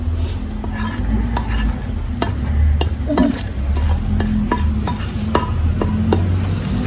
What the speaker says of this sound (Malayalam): ഇതെല്ലാം കൂടി ഒന്നും കൂടി നല്ലോണം ഒന്ന് യോജിപ്പിക്കണം